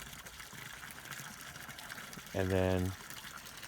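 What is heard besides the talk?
water flowing from dam overflow into creek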